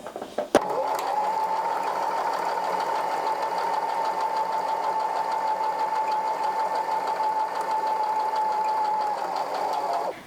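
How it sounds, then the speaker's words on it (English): A sewing machine runs in one steady, continuous stitching drone for about ten seconds after a brief start, close and fairly loud with no voices over it. "Hold the thread at the back and start sewing."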